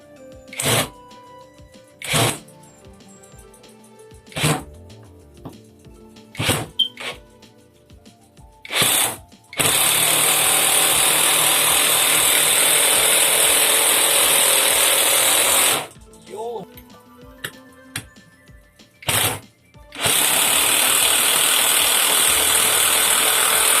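An OKS impact driver drives a large screw, with short bursts of rapid ratcheting hammering between pauses, then two long sustained runs of loud clattering impacts, close up.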